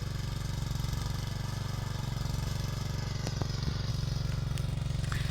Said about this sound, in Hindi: तो यहाँ पे मेरे पापा ट्रैक्टर लगा रहे हैं।